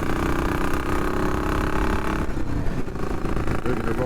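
A motorcycle engine runs steadily and loudly as riders set off, a dense, even drone with a slight change in tone partway through.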